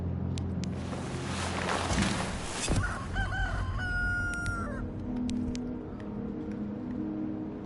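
A rooster crows in a video game as the Chicken of Justice achievement is triggered. The drawn-out cock-a-doodle-doo rings over a dense, busy game soundscape with scattered chimes and electronic tones.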